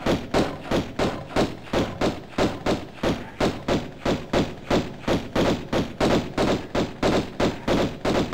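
Gunfire at enemies in a remastered Tomb Raider game: a long run of evenly spaced, punchy shots, roughly three per second, loud and steady throughout with no voices.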